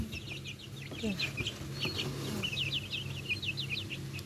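Two-week-old chicks chirping near at hand: many high, rapid peeps overlapping continuously over low background noise, with a brief spoken word.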